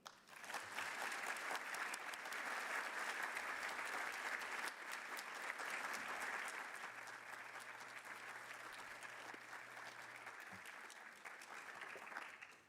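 Sustained, even applause fills a university lecture hall as an audience welcomes a guest speaker, a steady wash of many hands clapping that holds for several seconds before slowly tapering off.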